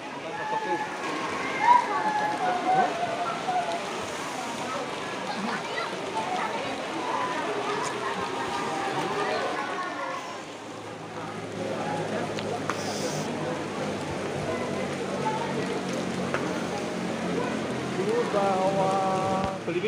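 Rain falls steadily over a busy outdoor coffee spot in the Blado highlands as a continuous hiss with scattered drips. Faint crowd noise sits beneath it throughout.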